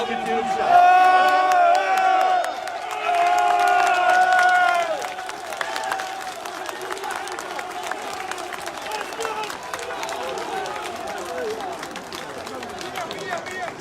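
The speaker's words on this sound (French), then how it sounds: "les pompiers sont en train d'applaudir" Firefighters applaud during a street protest as police fire tear gas: shouting and chanting voices come first, then scattered, continuous clapping from a crowd carries on at moderate loudness.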